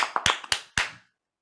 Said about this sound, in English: Let's clap it up, Jaguars!